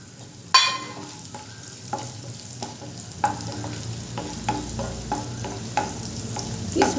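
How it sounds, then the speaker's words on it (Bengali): Raisins frying in hot oil in a pan while making spicy semolina upma, a steady close sizzle broken by sharp clicks and scrapes of stirring, with no talk. "এরপরে ওই তেলের মধ্যে দিয়ে দেবো কিশমিশ।"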